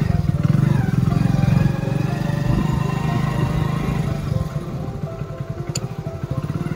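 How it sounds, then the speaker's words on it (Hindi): Motorcycle carrying two riders bumps along a rocky off-road track near Rajouri, its engine chugging loudly and close, with rhythmic pulsing and clattering as it crawls over rough ground. "अभी तो चलो मैं बाइक लेके जा रहा हूँ"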